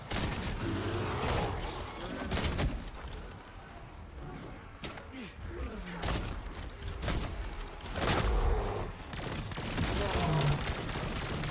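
Rapid SMG bursts crackle through a Call of Duty: Black Ops zombies match, coming in repeated clusters of shots with mechanical clatter between them, fairly loud and dense over game ambience.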